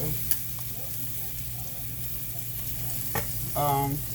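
Eggs fry in a pan with a low steady sizzle, broken by a couple of sharp scrapes and clinks as a spatula flips them, ending with a brief louder burst of frying.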